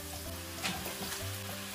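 Starch-dusted potatoes, drained of water, frying in a flat pan with a generous layer of oil, giving a steady close sizzle and crackle with faint stirring clatter throughout.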